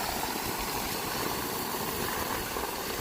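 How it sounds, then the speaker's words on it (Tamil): A 3 HP Texmo well pump motor running at a 60-foot well, a steady close mechanical hum and rattle that holds without change. "3 HP டெக்ஸ்மோ மோட்டரு."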